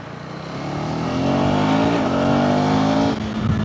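KTM 390 Adventure motorcycle on a test ride after a technician's service, its engine revving up and holding a strong rising drone before easing off, loud and close with no talk.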